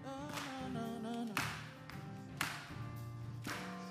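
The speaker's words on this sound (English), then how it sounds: "Just clap with me right here." People in a college chapel clap together in a steady beat, about one sharp clap per second, heard under a sustained organ or keyboard chord.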